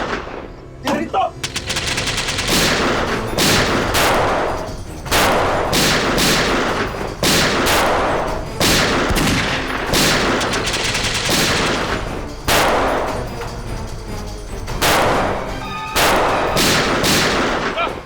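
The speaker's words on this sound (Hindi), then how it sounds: "गोली चला।" Sustained bursts of gunfire in a jungle shootout from a crime drama, loud and continuous across the clip with rapid automatic volleys and sharp cracks, punctuated by brief pauses and some shouting mixed in.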